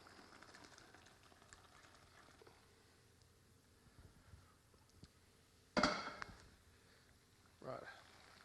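Hot pasta water strained into a bowl, a brief loud splashing pour followed by a second shorter gush, with a voice talking during the background kitchen noise.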